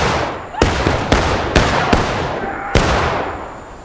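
Gunfire in a Civil War video game battle, with five or six loud, sharp rifle reports cracking at irregular intervals, each trailing off into a ringing, echoing decay.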